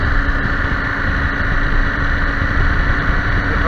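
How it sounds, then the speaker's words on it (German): A motorcycle engine runs quietly while riding, a steady low hum with rumbling wind noise. The sound stays constant and close, with a few faint clicks and no speech. "Der Motor ist ja Gott sei Dank sehr leise von dem Motorrad."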